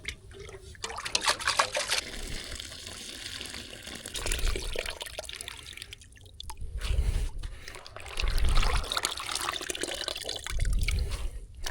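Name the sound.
Dnipro river water flowing back quickly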